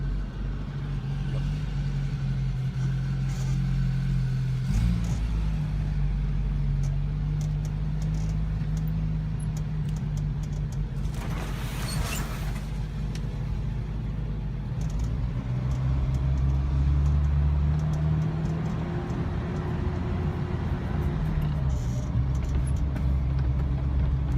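Mitsubishi Pajero (Montero) paddock basher driving over grass and mud, a steady loud engine drone from inside the cab with shifting pitch as it accelerates and eases off, a brief rattle partway through.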